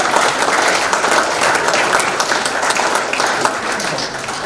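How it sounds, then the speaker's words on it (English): Loud, sustained audience applause at an awards ceremony, a full room of hands clapping steadily for several seconds and tapering slightly toward the end, with no talk over it. "Round of applause for Murray also"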